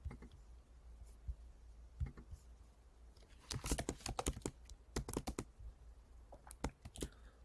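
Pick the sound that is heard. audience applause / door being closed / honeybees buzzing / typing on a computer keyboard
typing on a computer keyboard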